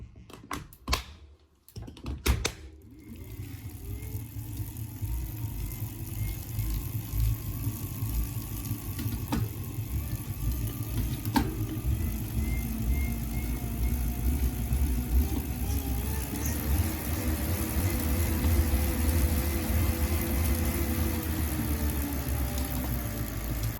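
A Tacx smart trainer whirs as it is pedalled up to speed, a steady close mechanical drone that rises slightly in pitch toward the end, with a few light clicks near the start.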